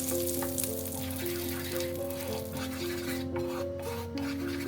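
Caramel with baking soda stirred in a pan over low heat gives a steady bubbling sizzle and scraping rub that continues without a break, with a constant tonal hum underneath.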